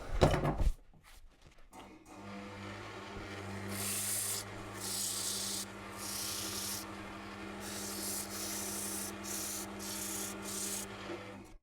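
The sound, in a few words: sanding wood by hand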